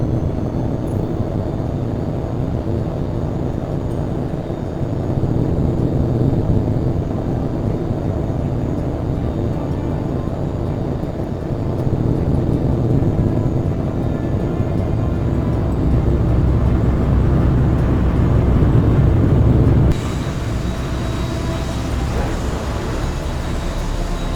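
In the HAWX 2 flight game, a fighter jet roars through its takeoff run, a loud, continuous rumbling thrust that swells and surges in steps before shifting sharply near the end.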